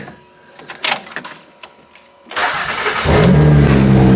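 Quiet clicks and faint movement, then a car engine cranks and catches, settling into a loud, steady idle that fills the rest of the clip.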